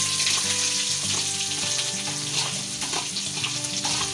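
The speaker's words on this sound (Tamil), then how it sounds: "வெங்காயம் லைட்டாக வந்து கலர் சேஞ்ச் ஆகணும். அந்த மாதிரி நல்லா ஃப்ரை பண்ணிக்கோங்க." Onions frying in oil in a pan for rice upma, after chana dal has been browned, giving a steady, close sizzle with light stirring scrapes throughout, no talking.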